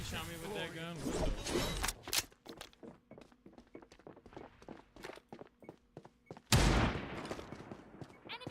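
Rapid gunfire from the video game FragPunk, a run of sharp repeated shots with footstep-like thuds and game effects, a loud burst near the end, with people talking over it.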